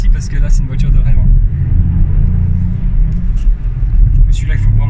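A 2020 Ford Fiesta ST mk8 ST Edition with a 200 hp three-cylinder turbo engine, driving with a deep, steady rumble that fills the cabin beneath a person talking.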